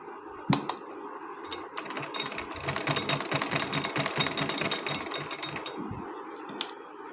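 A sewing machine stitches along the neckline of a suit for a three-year-old girl, its dense rapid mechanical chatter starting after a sharp click and running steadily for several seconds, close and alone with no talk.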